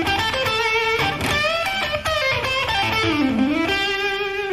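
Distorted electric rock guitar plays a bluesy lick on the A blues pentatonic scale, with bends and finger vibrato, loud and close, a continuous run of sustained and gliding notes alone without talk.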